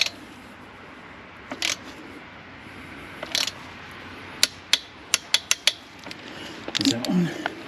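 Ratcheting clicks from a torque wrench tightening the chain adjuster clamp bolts on a 2015 Kawasaki Ninja 1000 ABS motorcycle, a quick run of sharp close clicks after a few scattered mechanical taps.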